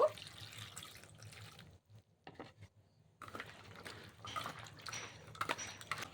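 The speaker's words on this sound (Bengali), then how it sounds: "এবার এটা পরিষ্কার করে ধুয়ে নিতে হবে জল দিয়ে তিন চারবার" Cut flat beans being rinsed under running tap water, a steady splashing wash that drops out briefly midway before resuming with clattering and pouring, close and fairly loud, no talking.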